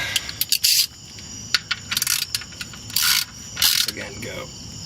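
A wrench snugs down the oil drain plug on a car during an oil change, giving a series of short metallic ratcheting clicks and rattles in quick irregular bursts, close and fairly crisp with no talking.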